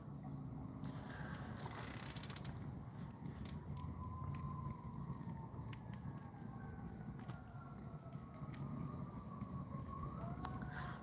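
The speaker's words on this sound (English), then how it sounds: "I don't know if y'all can hear that ambulance, but I hope wherever it's going, everyone is safe." A distant ambulance siren passes faintly, its wailing tone drifting under steady background noise with occasional brief sounds throughout.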